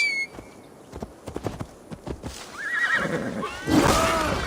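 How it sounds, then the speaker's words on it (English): A horse whinnies after being called in Assassin's Creed Valhalla, preceded by scattered hoof clip-clops and thuds; the neigh rises mid-clip and a second louder whinny follows near the end. "I'm gonna call my horse."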